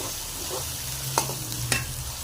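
Ginger garlic paste and tomato fry for pulao in a hot pan, giving a steady close sizzle with two quick scrapes of a spoon.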